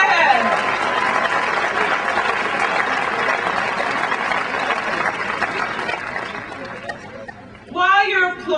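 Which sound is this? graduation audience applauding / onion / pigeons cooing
graduation audience applauding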